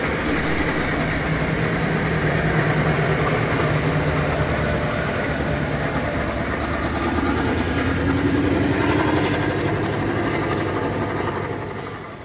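Heritage steam locomotive 5917 hauls a train past in Sydney, rumbling continuously with a steady roar and rhythmic wheel clatter, loud and close, fading slightly at the end.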